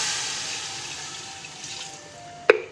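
Water rushes steadily from a glass into a pot of meat fried in garlic-ginger paste for a Delhi-style khade masale ka gosht, a continuous splashing pour that fades before a sharp clink at the end.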